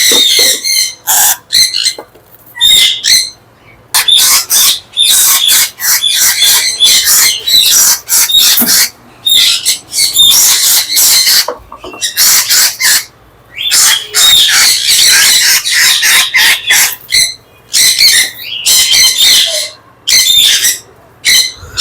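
Breeding pairs of caged birds at a bird farm in Comilla squawk and chatter loudly and close by, in dense repeated bursts broken by short pauses.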